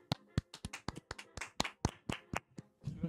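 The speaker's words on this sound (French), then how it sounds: "On peut applaudir, allez. Applaudis avec moi là." Hands clap in a quick, slightly uneven rhythm, a dozen or so sharp close claps, fairly quiet and mostly alone.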